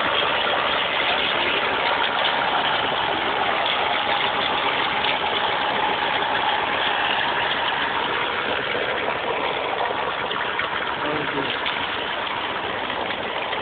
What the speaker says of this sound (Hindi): ट्रैक्टर में चला रहे हैं